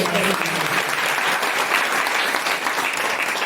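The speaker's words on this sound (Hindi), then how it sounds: "जोर से तालियां बजाओ।" A church congregation at a Sunday holy communion meeting claps together in steady, dense applause that stays loud throughout, with a voice faintly audible underneath.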